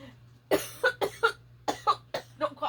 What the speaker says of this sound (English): Don't cough too hard.